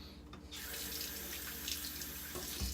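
Water runs steadily from a hotel bathroom tap, a continuous close hiss of flow splashing into the basin for the whole stretch with no talking.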